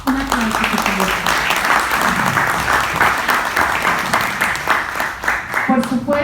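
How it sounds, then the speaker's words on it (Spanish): Applause from an audience at a talk held at Universidad Veracruzana, a steady wash of clapping running throughout, mixed with voices speaking over it. "Un aplauso, por favor."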